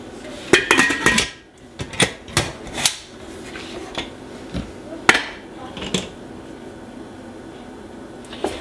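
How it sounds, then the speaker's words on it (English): Metal clatters and knocks as the lid goes onto a pressure cooker holding chickpeas, with a series of sharp, irregular clanks and bangs up close, spaced over several seconds. "All I had to do is put my lid on, put my top on."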